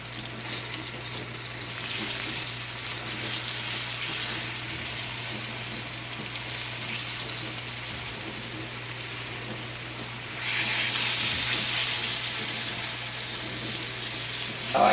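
Liver and onions browning in a frying pan give a steady, even sizzle throughout, close and continuous, swelling louder briefly near the end, with no talking over it.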